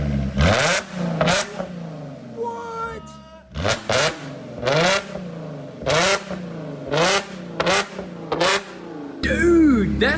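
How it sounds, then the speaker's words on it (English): A supercharged V6 car engine is blipped repeatedly: about eight sharp, loud revs close by, each quickly dropping back, with short pauses between them. "once you rev it, I think it's gonna pop"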